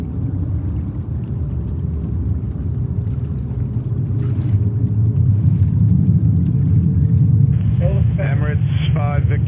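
An Airbus A380 jet readies for takeoff at JFK airport in New York, a steady low engine rumble with wind noise that swells slightly, and a voice talks briefly near the end.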